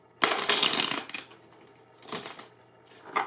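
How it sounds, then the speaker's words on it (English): A Hermetic Tarot deck is shuffled by hand close up, a sharp riffling burst followed by quieter papery shuffles and a second flurry near the end. "Shuffle one more time."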